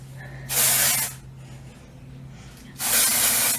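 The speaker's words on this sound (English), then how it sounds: "the first thing we're going to do is add our dry shampoo to our hair" Dry shampoo sprayed onto hair in two loud, close hissing bursts of about half a second each, separated by a quiet pause.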